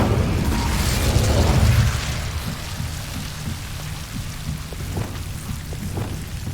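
The Incendio fire spell erupts in the Hogwarts Legacy video game as a roaring, crackling whoosh of flame that swells for about two seconds, then drops to a softer, rain-like fizzing with scattered small pops.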